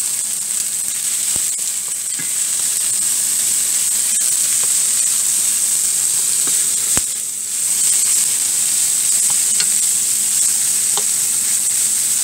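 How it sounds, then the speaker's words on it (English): Chicken for soy sauce chicken sizzles and fries steadily in a hot pan, a constant bright hiss with occasional light clicks and scrapes. "So I'm going to go ahead and put the chicken in."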